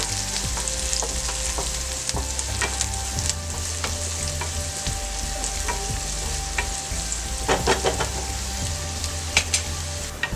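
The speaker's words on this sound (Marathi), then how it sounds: "सगळ्यात आधी तेलात जिरं घालूया, कांदा, कांदा चांगला परतून घेऊया।" Cumin and onion frying in hot oil in a pan, a steady, close sizzle with crackling pops and a brief burst of spattering partway through, no voices.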